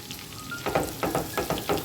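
Spices and asafoetida sizzle in hot oil for a Rajasthani papad curry, with soft steady frying broken by rhythmic bursts of spoon stirring and scraping in the pan, fairly quiet and close.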